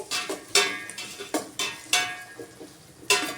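Chopped tomatoes frying in a pan for beetroot palya, with a spoon scraping and clinking against the metal in repeated strokes, close up and moderately loud, over a faint sizzle.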